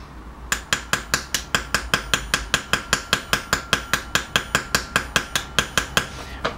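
A ball peen hammer peens the pin of a straight razor, a steady run of about twenty-five sharp metallic taps at an even rhythm, close and clear with no talking.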